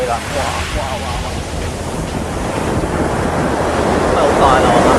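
Big ocean waves crash and surge against a rocky shore, a loud continuous roar with wind buffeting the microphone and occasional voices.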